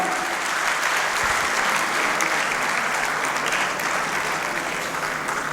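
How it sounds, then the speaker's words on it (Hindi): Loud, dense audience applause filling an auditorium at a poetry event celebrating a poet's 93rd birthday, a steady sustained roar of clapping with no talking. "एक बार जोरदार तालियों के साथ"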